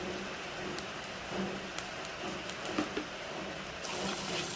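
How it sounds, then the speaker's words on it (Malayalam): Crushed ginger and garlic sizzle in hot oil in a pan, a steady crackling hiss with scattered pops and spits, close and fairly quiet, with no voices. "എണ്ണ ചൂടായിട്ടുണ്ട് ഇതിനകത്തോട്ട് നമുക്ക് ഇഞ്ചി വെളുത്തുള്ളി ചതച്ചത് ഇട്ട് കൊടുക്കാം ആദ്യം"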